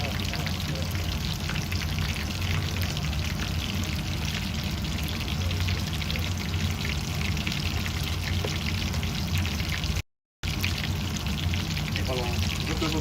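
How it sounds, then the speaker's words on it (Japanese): Scorpionfish pieces deep-frying as karaage in hot oil, a steady dense bubbling and sizzling hiss that runs continuously with one brief dropout near the end. "泡のこの大きさ、もうちょっとちっちゃくなるまで揚げていくとある程度上がってくる目安になるんで"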